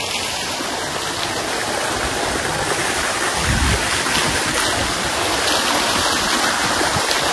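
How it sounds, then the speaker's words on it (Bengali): A large fountain splashing beside a swimming pool at a Tajpur beach resort, a loud steady close rush of falling water without talk. "আর সব থেকে বড় যে ঝর্ণাটা, সেটা হচ্ছে একদম এখানে"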